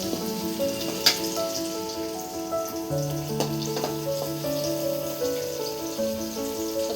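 Green chillies fry with chicken in a pan for homemade chilli chicken, giving a steady, even sizzle throughout, with a couple of faint clicks, beneath background music.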